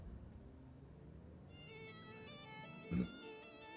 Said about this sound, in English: Oh, wow, that's a huge cat.